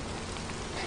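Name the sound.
rain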